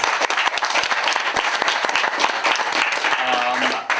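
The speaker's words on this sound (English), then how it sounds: "I think we should first of all give another round of applause for our brilliant panel." A symposium audience applauds a free speech panel, a dense, steady burst of clapping from a large crowd that holds loud throughout, with a faint tonal hum rising near the end.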